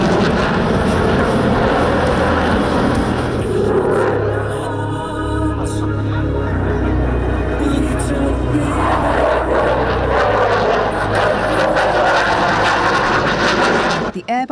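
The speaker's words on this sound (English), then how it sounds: "Noble performed two demonstrations with his Typhoon on each day" A Eurofighter Typhoon performing a flying display at an airshow, a loud continuous jet roar that swells and shifts in pitch as the fighter passes, steady throughout with crowd noise beneath.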